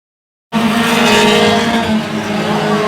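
Race cars roar loudly on the track at Oyster Bed Speedway, cutting in abruptly from silence with a dense, sustained engine drone and faint tire noise.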